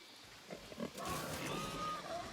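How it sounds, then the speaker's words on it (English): Pig grunts and oinks from farm animals in the video game Wartales, a few short close snorts at first, then a denser stretch of squealing grunts over ambient game noise. "Ah, the pigs!"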